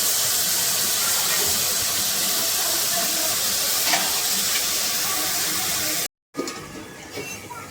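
Tomato dish simmering in a pan gives a steady, close sizzling hiss that runs evenly, then cuts out briefly near the end before a softer stretch of cooking noise.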